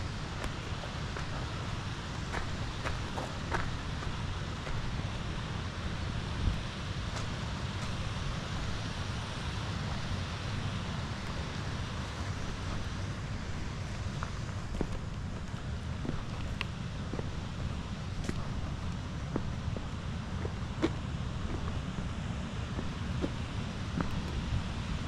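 Wainwath Force waterfall pours in a constant low rushing roar from some distance, with wind buffeting the microphone and a few faint knocks scattered throughout.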